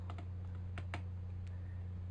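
Key press and mouse clicks on a computer, a few soft, sparse clicks over a steady electrical hum.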